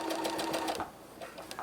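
A sewing machine stitches in a quick burst of rapid needle taps, then pauses briefly before a few more short stitches. The sound is close and fairly quiet.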